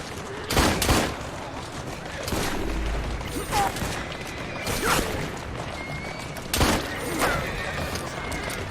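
Gunfire in Assassin's Creed: Syndicate: several sharp shots ring out at irregular intervals over a busy, noisy battle backdrop in the London game world, loud and close with a rumbling mix between bursts.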